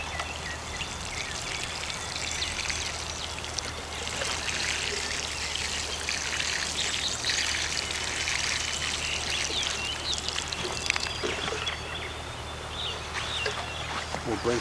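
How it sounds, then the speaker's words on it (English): Water poured from a container onto soil around a newly planted nectarine tree, a continuous trickling splash over steady background noise, fairly close and unbroken for the whole stretch. "We're going to water it in, let the water help to settle the soil"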